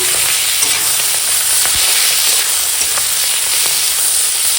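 Raw tomato paste ground with ginger, garlic, cumin and dried and green chillies sizzling loudly in a pan, a dense constant fry with faint stirring clicks, close up and with no voices.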